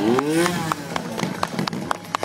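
A trial motorcycle engine runs steadily close by at an urban trial show, with a rough droning tone and repeated sharp popping bursts from the exhaust.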